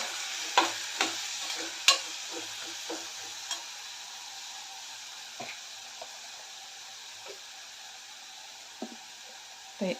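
A spoon knocks and scrapes against a pan while chickpea and potato curry with chana masala sizzles gently beneath, with sparse taps and clicks at irregular intervals over a steady frying hiss.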